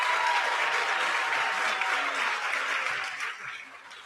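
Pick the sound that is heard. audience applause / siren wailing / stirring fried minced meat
audience applause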